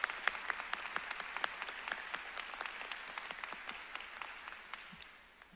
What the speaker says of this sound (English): Can we give her a round of applause as well this morning?